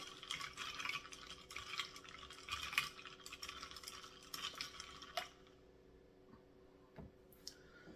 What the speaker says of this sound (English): Now we're going to mix that all together so that all of our spirits